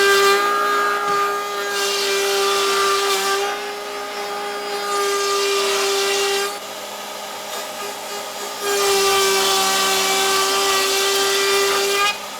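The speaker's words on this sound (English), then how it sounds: "This is our shaper, and this is basically a super high-speed router. This is what's going to make all the molding for the fence." A shaper, a super high-speed router, cutting decorative molding for a fence, gives off a loud, steady high-pitched whine. The pitch and intensity swell and dip as the wood is fed through, with no voices.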